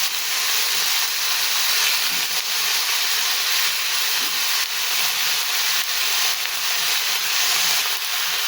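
Eggplant and potato pieces fry in a pan with a constant, bright sizzling hiss at an even loudness throughout, close up and with no talk.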